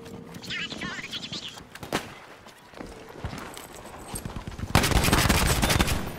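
Gunfire from a MAS 44 rifle in the Battlefield V video game, with bursts of sharp shots that grow into dense, loud rapid firing near the end.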